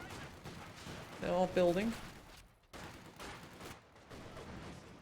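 Bursts of DP light machine gun fire from a Soviet Guards rifle squad in a Stalingrad-set real-time strategy match, heard as a dense volley of rapid cracks mixed with explosions, with a commentator talking over it.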